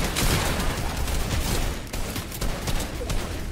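Loud, continuous bursts of automatic gunfire from a Fortnite match crowd the moment, close and unbroken, with rapid shots blending into a dense clatter.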